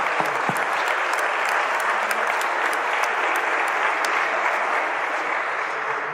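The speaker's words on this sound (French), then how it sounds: "Nous pouvons les applaudir." A congregation claps steadily in a cathedral during a closing Mass, dense sustained applause filling the space, loud and continuous from start to finish with no speech over it.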